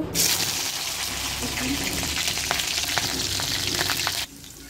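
Green chilies frying in hot oil in a kadai: loud, continuous sizzling and spattering from close by, with bubbling crackles throughout, cutting off abruptly near the end to a quieter background.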